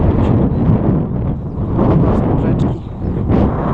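Steady outdoor wind over a wheat field buffets the microphone in a continuous low roar that dips briefly near the end, with no talking.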